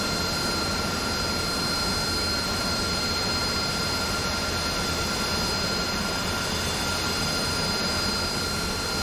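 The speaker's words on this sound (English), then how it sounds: "I'm going to do a standard takeoff, so the thrusters want to be pushing me forward, not down." Jet aircraft engine roaring through a takeoff run in a flight-simulator game, a loud, steady, unbroken drone with no talking over it.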